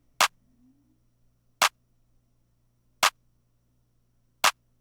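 Claps in a rage beat land at a slow, regular pace, four sharp hits roughly 1.4 seconds apart, dry and isolated with no talking.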